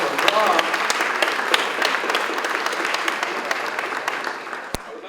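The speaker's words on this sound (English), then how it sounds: "That was a round of applause." A round of applause rises from the crowd at a Norooz Persian New Year celebration at Los Angeles City Hall, lively clapping that starts strong and slowly tapers over about five seconds.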